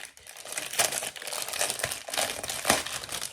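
Plastic and cardboard packaging on a paint-by-numbers kit is opened up close, with steady crinkling and crumpling and a few brief tearing bursts.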